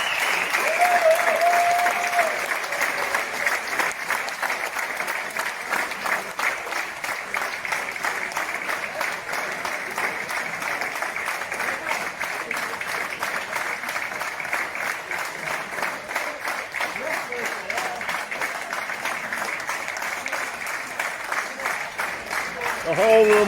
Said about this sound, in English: The whole room applauding.